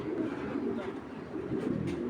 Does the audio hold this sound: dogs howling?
no